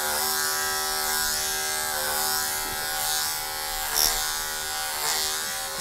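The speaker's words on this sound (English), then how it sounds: "Keep running the comb attachment and clip it over." Electric clippers fitted with a comb attachment buzz steadily while trimming a Labradoodle's coat, a close, continuous motor drone that dips slightly as the blade moves through the hair, with no voices over it.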